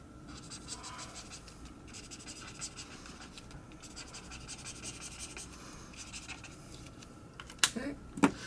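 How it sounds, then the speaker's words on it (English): A warm gray 3 alcohol marker scratches across paper while coloring in shadows, with soft repeated strokes in quick bursts, close and quiet, ending in a couple of sharper taps. "so it's W3, so my warm gray 3, my second warm gray."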